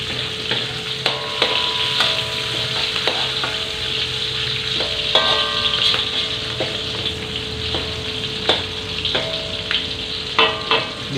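Chili and spring onion fry in a pan with a loud, steady crackling sizzle, punctuated by repeated clanks and scrapes of a spatula against the metal.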